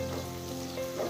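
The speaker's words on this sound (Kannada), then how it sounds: "ಇದು ಸುಮ್ಮನೆ ಫ್ಲೇವರ್ಗೋಸ್ಕರ ಹಾಕಿ ಸ್ವಲ್ಪ ಡೀಪ್ ಫ್ರೈ ಮಾಡಿಕೊಂಡು ಸ್ವಲ್ಪ ಫ್ರೈ ಮಾಡ್ಕೊಳ್ಳಿ" Curry leaves deep-frying in hot oil in a pan for a chicken gravy, giving a steady, close crackling sizzle that holds for about a second with no voices.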